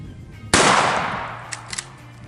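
A 20 gauge shotgun fires a single Triple Beard turkey load, one sharp loud outdoor blast that decays over about a second, followed by a few faint clicks.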